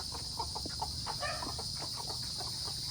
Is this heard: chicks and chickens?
yes